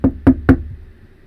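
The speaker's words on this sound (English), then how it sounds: "Your thoughts are interrupted by a knock at your door." Three firm knocks on a door, evenly spaced and close, in a castle setting, followed by quiet.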